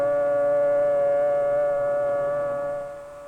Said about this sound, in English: The signal is a long, steady blast on the civil defense sirens or other warning devices.